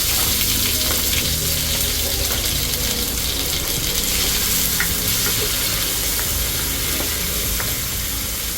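Garlic, tomato and onion sautéing in a pan for pinakbet, a steady dense sizzle with occasional clinks and stirring scrapes, close and continuous with no talk.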